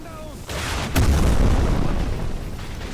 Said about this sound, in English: here's the explosion, like before